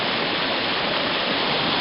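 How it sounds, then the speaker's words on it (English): A mountain stream in the Glastenbury Wilderness of Vermont flows with a steady, dense rushing of water, loud and close, with no other sounds. "here's the stream I got water from"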